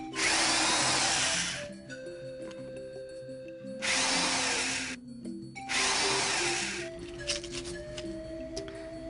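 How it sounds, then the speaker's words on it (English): A power drill whines in three separate bursts of a couple of seconds each, drilling into a gourd, with quieter pauses and faint clattering between them. "Just use the drill right on your little mark."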